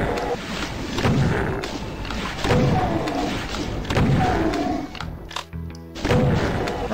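Rocket launcher fire in a Doom map: a fast, loud run of heavy thuds and booming blasts, one after another over a constant game din, with a short gap of quieter mechanical noise near the end.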